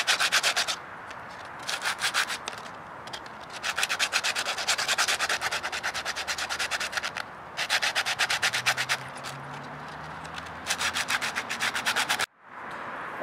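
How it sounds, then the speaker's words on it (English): Sandpaper rubbed back and forth over a small handmade instrument reed, several steady scraping strokes in rhythmic runs with short pauses between, close and clear, no speech. "you're going to want to sand it down."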